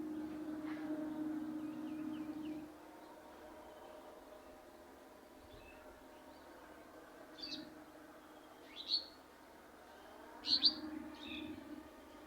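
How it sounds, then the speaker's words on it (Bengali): Birds chirp outdoors around a yard with chili plants. A few faint, scattered short tweets come from some distance in a quiet setting with a soft low hum. "পাখি ডাকাডাকি।"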